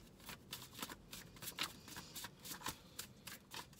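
Playing cards are shuffled up close in quick, soft riffling bursts, with no talking.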